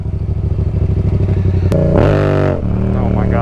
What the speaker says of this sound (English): I want to do at least one wheelie in this video.